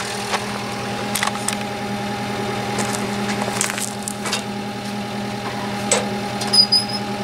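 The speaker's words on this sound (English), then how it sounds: "Let's start this little tractor here up" Small tractor with a glow-plug diesel engine idling steadily nearby, an even low chugging hum with occasional light clicks and knocks on top.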